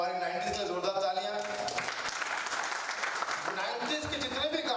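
An audience at a film press conference bursts into a few seconds of dense clapping, with a voice speaking just before and after.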